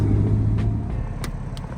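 Steady low engine rumble from the front of a Ford Explorer, loud and close, with a constant droning hum and no voices.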